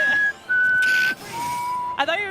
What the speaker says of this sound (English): you can just whistle like the wolf in the passing boots whenever you kill him.